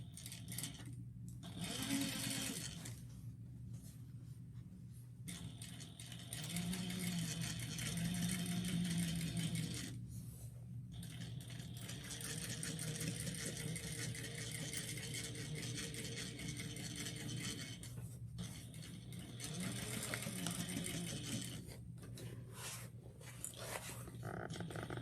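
A sewing machine top stitching a fabric sling runs in steady, continuous bursts at close range, pausing briefly a few times between longer stretches of stitching, with a constant low hum underneath.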